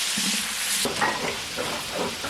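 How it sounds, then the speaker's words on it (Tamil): Onions and tomatoes sizzle and fry steadily in a pan while a utensil stirs and scrapes through them, with soft clinks. "சேர்த்து நல்லா கலந்து விட்டுக்கலாம்"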